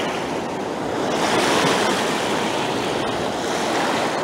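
Ocean surf at Poipu Beach washing in around bare feet, a loud continuous rush of breaking waves and fizzing water with some wind buffeting the microphone, no talking.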